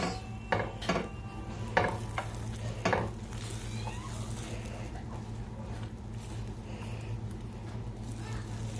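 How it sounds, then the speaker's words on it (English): Feta pasta with roasted garlic and roasted tomatoes being stirred together in a pan, several distinct scraping strokes in the first few seconds over a steady hum, then quieter continuous background. "Stir this all together."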